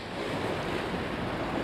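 Ocean waves break and surge along the Jurassic Coast shoreline in a steady, loud, continuous wash, with wind buffeting the microphone throughout.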